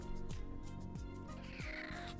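Waffle, a cat, gives several faint, rough, drawn-out cries in quick succession, under a soft steady background hum.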